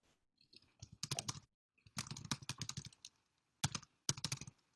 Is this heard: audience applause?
no